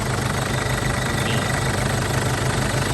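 A 2006 Mazda BT50 pickup's diesel engine idles steadily with a dense, even, rumbling chug and slight knocking, loud and close throughout.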